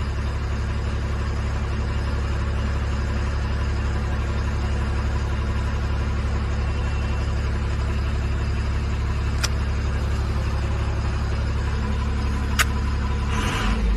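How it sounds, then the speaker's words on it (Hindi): A truck engine idles steadily to build air pressure for its air brakes, a constant low mechanical rumble lasting the whole stretch, broken only by a couple of brief sharp ticks and a short hiss near the end. "अभी तो स्टार्ट रखेंगे ये भाई और एयर बनाएंगे ब्रेक"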